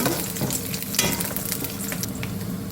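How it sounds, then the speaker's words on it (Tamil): Garlic cloves and coconut sautéing in a pan for a ridge gourd egg gravy, a steady close sizzle with frequent stirring scrapes and clinks throughout, no talk. "பூண்டு ஒரு பத்து பல் அதுவும் நல்லா வதங்கட்டும் தேங்காய் நல்லா வதக்கணும்"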